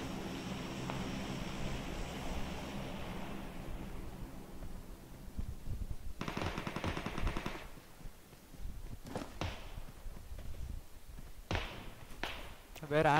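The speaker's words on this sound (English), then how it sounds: "someone is shooting" Gunfire in the video game PUBG comes in scattered bursts of rapid shots, some loud and sharp, others more distant, over a windy, rumbling background.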